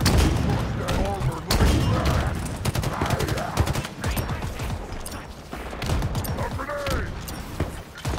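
Rocket launcher shots and explosions in the video game Halo Infinite, several booming blasts and impacts across a busy firefight, with someone talking over the action.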